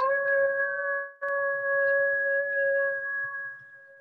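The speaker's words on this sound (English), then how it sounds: "That's the lonely howl. That's the sound that we think of with wolves." A lone wolf howl holds a long, steady, clear tone for about four seconds with one brief break, heard alone without any talk.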